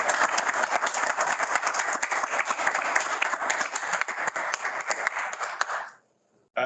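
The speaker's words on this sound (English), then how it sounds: "A round of applause," Sustained audience applause at a professional chapter meeting, dense continuous clapping from a crowd for about six seconds before it stops abruptly.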